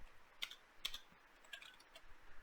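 Light typing on a computer keyboard, a few soft, irregular key clicks spaced across a couple of seconds, quiet and close with no talking.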